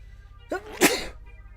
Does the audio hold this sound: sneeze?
yes